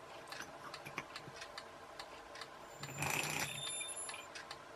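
A warm, ordinary brushed motor, its wires taken off the commutator and run straight to a brushless ESC, gives a quiet, even train of ticking clicks, then a brief, harsher burst of strained buzzing with a thin whine.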